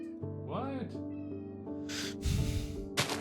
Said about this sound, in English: You might have heard my cat in the background there.